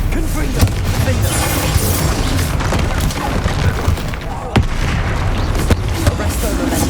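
Repeated spell-blast explosions from Confringo casts in the game Hogwarts Legacy, sharp booming bursts at irregular intervals over a dense, loud layer of combat noise and music, with battle shouts in between.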